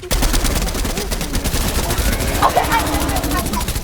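Machine gun fire in a video game, a continuous rapid stream of evenly spaced shots running throughout at steady loudness, with a brief voice heard at the start.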